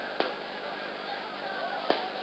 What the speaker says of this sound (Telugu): ఆ టపాకాయలండి